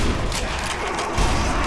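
Dense bursts of rapid gunfire in the video game Sniper Elite: Nazi Zombie Army crackle and boom loudly throughout, with no pause between the shots.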